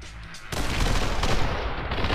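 Sustained automatic assault rifle fire in the action video game Hong Kong Massacre, a dense loud burst that starts abruptly after a quieter half second and rattles on continuously to the end with no talking.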